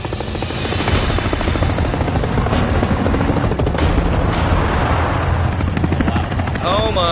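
A loud, steady rotor roar of two helicopters fills the scene, dense and continuous with rumbling low end, as if passing close overhead.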